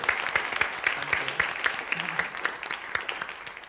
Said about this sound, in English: So let's have a big round of applause for our wonderful panelists tonight.